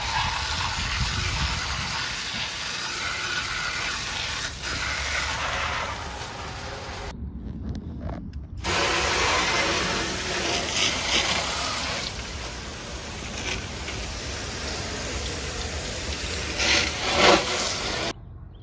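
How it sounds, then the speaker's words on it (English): Water from a hose gushes steadily inside the bed of a Subaru mini truck, a loud continuous spray with one brief break midway, no talking. "I'm just gonna kind of hose this thing off"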